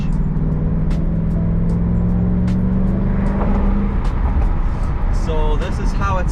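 Car engine heard from inside the cabin with the windows partly down, a steady low drone and wind rush that runs continuously, while faint voices sit under it.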